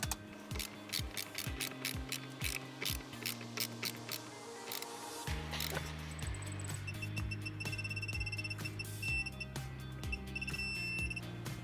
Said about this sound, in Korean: 디지털 토크 렌치로 토크 값을 맞춰서 조여줄게요